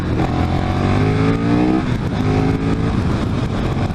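A KTM motorcycle, likely a Super Duke, accelerates hard under a loud, continuous engine roar, with rising revs broken by several quick-shifter upshifts that briefly cut and step down the pitch.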